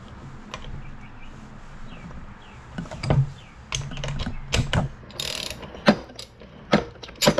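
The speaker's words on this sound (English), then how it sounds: "Now you do clockwise to loosen the nut." A ratchet wrench clicks as it turns clockwise to loosen the blade nut on an Echo 2620 edger, producing irregular bursts of close, sharp ratcheting clicks with some metallic handling noise between them.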